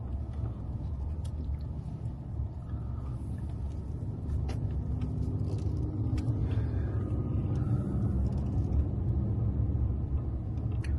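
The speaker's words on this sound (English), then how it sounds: "I'm going to turn the car round so we can actually point at it" A car being turned around on a street in the small Route 66 town of Grants, heard as a steady, loud engine rumble and road noise that builds slightly as the car moves, with no talking.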